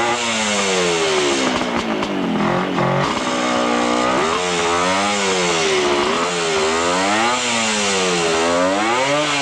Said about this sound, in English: Kawasaki triple. When these engines are set up right, they fly.